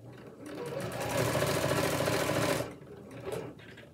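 A sewing machine runs a back stitch on a shirt cuff extension, a close, loud rapid mechanical whirr for about two seconds before stopping, followed by a brief quieter burst.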